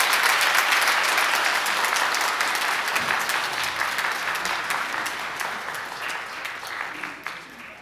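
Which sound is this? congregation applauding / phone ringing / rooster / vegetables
congregation applauding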